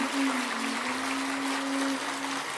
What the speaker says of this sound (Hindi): एक बार सभी एक दूसरे के उत्साहवर्धन में तालियों की गड़गड़ाहट करें।